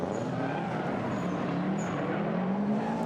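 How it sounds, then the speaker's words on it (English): A flat-four boxer-engine car on a gymkhana course bogs down during its run, a steady rumbling engine drone with a slowly rising and falling tone, fairly close and continuous for the whole stretch, with no talk. "You can hear it bog down. Those boxer engines, the flat four, they sound so cool."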